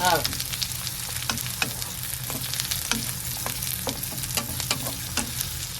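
Chopped onion sautéing in a pan for ginataang tulingan, a steady close sizzle with several scraping stirs of a utensil against the pan.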